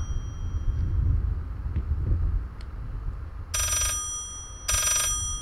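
Two bursts of an electronic telephone ring sound in the horror game Layers of Fear, each about a second long, over a steady low rumbling ambience, moderately loud and with no talk.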